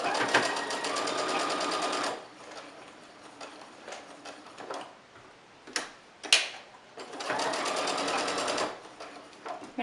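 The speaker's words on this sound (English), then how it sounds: "on this side, we can just sew all the way down" A sewing machine stitches a fabric mask, running in two loud bursts of rapid mechanical whirring at the start and end, with quieter clicks and handling noises in the pause between.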